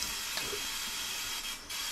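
Cold tap water runs in a steady hiss as soap is rinsed off, close and fairly loud, briefly dipping near the end, no speech.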